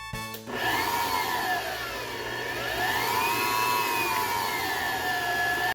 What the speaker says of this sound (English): Now I'll mix all the wet ingredients in my stand-up mixer.